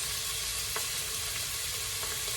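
Green curry paste sizzling in hot oil in a pan for a Thai coconut green curry, a steady dense hiss with a few faint stirring clicks, close and continuous with no talk.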